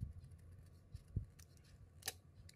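Scissors trim a calligraphy pen nib in a few quiet, sharp snips, close and isolated, with one crisp cut standing out near the end.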